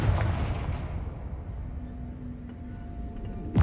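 Confringo blasting spell from Hogwarts Legacy, a loud close explosion that rumbles and fades, followed by a sharp burst at the end.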